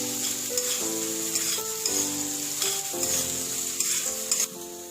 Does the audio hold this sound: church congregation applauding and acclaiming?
no